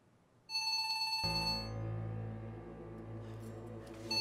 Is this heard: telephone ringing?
yes